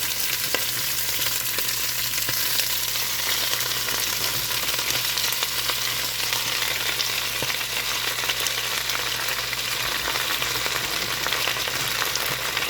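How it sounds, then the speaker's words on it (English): Spinach sautes in a pan, giving a steady, continuous sizzle that holds even throughout with faint stirring scrapes, close and with no voices. "we're going to go in with the spinach. And we're going to saute this up for about 5 minutes"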